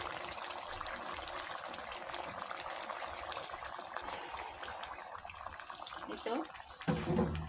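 Broth pours into chicken curry cooking in a pot, a steady watery gush running throughout under soft speech, ending in a brief sharper splash and clatter near the close.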